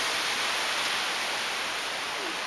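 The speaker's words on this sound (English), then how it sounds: "It's raining right now." Steady rain pours down on a miserable morning during a spring wind storm in the Southern Gulf Islands, a constant, dense hiss with no breaks and nobody talking.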